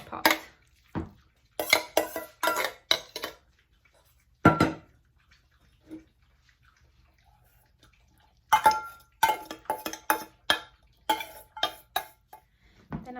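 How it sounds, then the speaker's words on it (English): Meat and other ingredients mixed together in a cooking pot for home-cooked dog food, sharp metallic clanks and scrapes of a utensil against the pot coming in quick bursts separated by quiet pauses. "I'm just going to start mixing everything together"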